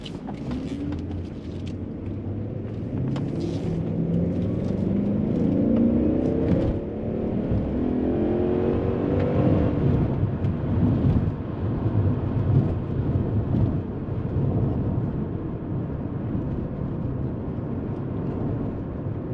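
A 2000 BMW 540i E39 sedan with a V8 driving, heard as a steady low engine drone and road noise from inside the car, rising in pitch as it accelerates, then holding even throughout.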